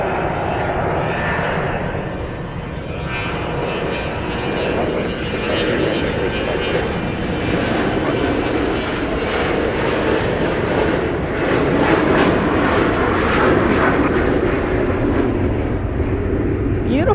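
An airliner departs from Dallas Love Field, a strong sustained engine roar that swells slightly toward the end and stays loud and continuous throughout.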